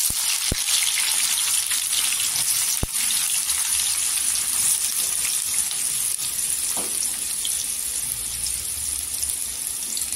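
Two to three large-cut onions sautéing in oil for chole, a continuous bright hiss and crackle of frying, fairly even throughout, with a couple of sharp clicks near the start.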